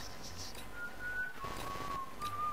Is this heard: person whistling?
yes